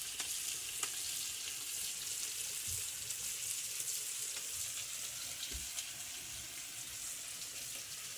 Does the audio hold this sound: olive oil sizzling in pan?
yes